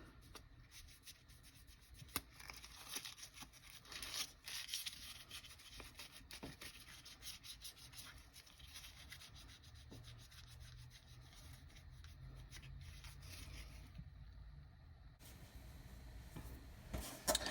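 Steady, faint rubbing and scrubbing while sticky blue tape residue is cleaned off the surface of a sublimation keychain, continuous friction with occasional small taps, quiet and close.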